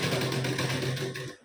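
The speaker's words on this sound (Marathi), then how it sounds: "इथून आता पुन्हा शिलाई देऊन घेऊ" A sewing machine stitches piping onto a katori blouse, its motor giving a close, steady, rapid whirring hum for just over a second before stopping abruptly.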